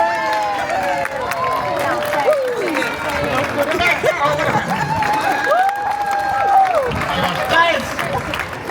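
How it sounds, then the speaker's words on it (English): A street magic show crowd in London's Covent Garden claps and cheers steadily, a dense outdoor wash of applause and voices with some whistling over it. "Get ready to clap, cheer, throw the kids in the air,"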